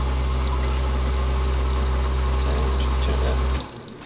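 Water runs steadily from a small bus-conversion sink tap fed by a 20-liter jug through a switched pump, a close, continuous splash with a pump hum that cuts off near the end.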